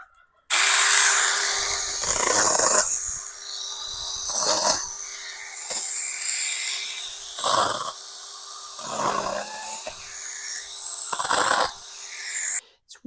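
A mini chainsaw trims small branches of a white peach tree in loud, close bursts of high buzzing cutting that rise and fall several times over a steady idle, with no talk.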